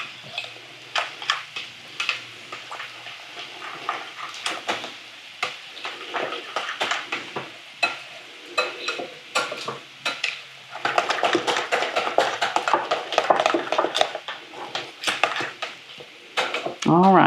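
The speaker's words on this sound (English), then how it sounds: "And then we're just going to mix this up until that egg is incorporated" Egg being stirred into ricotta cheese in a bowl, with repeated scraping clinks of a utensil against the bowl in an irregular rhythm, close and moderately loud, getting busier toward the end.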